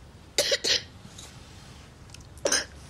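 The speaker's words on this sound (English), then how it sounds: "You've got a bit of a cough, haven't you?" A young girl with asthma coughs close by, a quick double cough followed after a pause by one more sharp cough, against a quiet room background.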